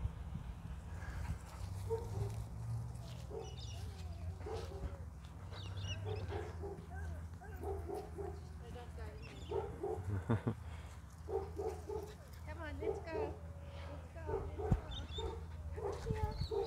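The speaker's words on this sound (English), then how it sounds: "Some dogs looking at us over the field." Dogs in a field near Albury let out scattered yips, whimpers and short barks at a moderate distance, over a low wind-like rumble with a little talk now and then.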